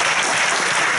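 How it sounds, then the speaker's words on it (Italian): Dense, steady applause from an audience at a national political assembly in Rome, loud and continuous with no voices standing out. "Facciamo un applauso a tutti quanti."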